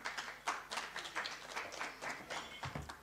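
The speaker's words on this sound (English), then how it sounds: "A round of applause to all our MND students." Faint applause from a small group at a research seminar, claps coming in a loose, uneven rhythm, sounding somewhat distant.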